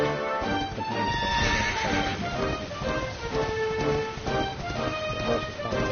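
A horse in the video game Dragon Quest XI Echoes of an Elusive Age whinnies in a long, wavering neigh amid ongoing hoof clip-clop, loud and close, over a dense game soundtrack with no talking.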